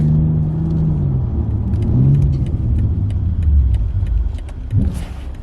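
Loud 2021 BMW X4 M40i driving at night, its engine rumbling and revving as the 8-speed automatic shifts quickly, with a steady drone, shifting tones and a brief whoosh near the end.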